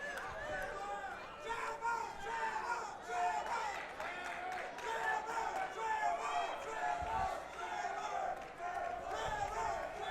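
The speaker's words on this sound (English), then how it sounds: "Trevor Johnson's fans cheering him on" Fans cheer for Trevor Johnson during the third round of a Shamrock 282 MMA bout between Derik Scott and Trevor Johnson. A steady roar of crowd noise and shouting runs the whole time, with scattered voices rising over it.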